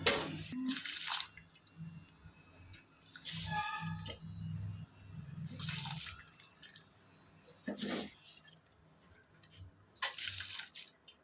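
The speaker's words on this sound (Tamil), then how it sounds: "இப்போ நம்ம எடுத்து வச்சிருந்த பொன்னி அரிசியை சேர்த்துக்கலாம்" Ponni rice poured into a pot of boiling water while cooking yellow rice (manja soru): a few close splashing, pattering bursts over a low simmering bubble.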